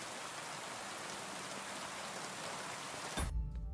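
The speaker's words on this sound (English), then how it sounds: "It's raining." Steady rain in Kingdom Come: Deliverance II hissing down without pause, ending abruptly with a low thump as the sound cuts out.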